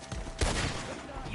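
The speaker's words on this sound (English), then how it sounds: "Shoot the ones up there first!" Gunfire in a Red Dead Redemption 2 shootout, one heavy booming shot standing out over a rough, noisy background with a dull rumble, fairly close and loud.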